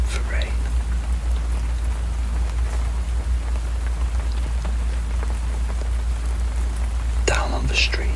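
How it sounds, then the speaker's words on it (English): Steady rain falls on a stormy night as a dense, even hiss with a low rumble underneath, continuous throughout, and a brief whisper-like rustle near the end. "you notice the rhythm of the rain change"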